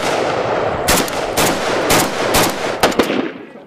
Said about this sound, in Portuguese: O disparo ensurdecedor de um fuzil, que, como se não bastasse, é feito com rajadas longas